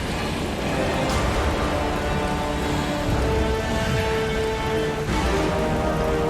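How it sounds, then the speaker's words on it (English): Steady heavy rain on the God of War: Ghost of Sparta main menu, a dense continuous hiss of falling water with a few faint rumbling swells underneath. "Rain, rain, rain man, and a lot of rain."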